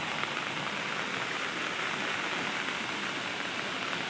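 Heavy monsoon rain in Konkan pours down as a dense, constant wash of drops, unbroken and fairly soft in level, with no voices over it.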